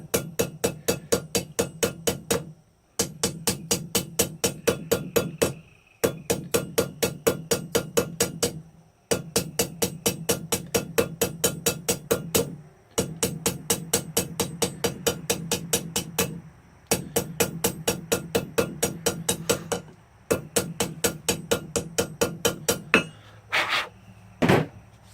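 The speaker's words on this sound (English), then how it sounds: "I'm going to tilt my hammer a little bit more this way so I can make this into more of an elongated cone" A blacksmith's hammer forging a taper into pipe, fast, ringing metallic strikes in long steady runs broken by short pauses, with a final few heavier blows near the end.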